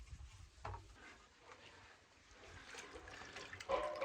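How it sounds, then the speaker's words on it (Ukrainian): Water sloshes and trickles as a linoleum floor is washed, soft wet wiping and dribbling sounds close by with a few louder splashes and scrubbing bumps near the end. "Мию лінолеум"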